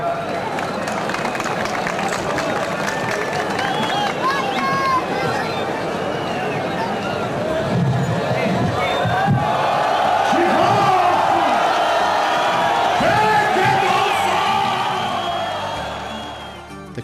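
A huge festival crowd in Manisa surges during the mesir paste distribution, a dense roar of many voices, shouts and whoops swelling toward the middle and fading at the end.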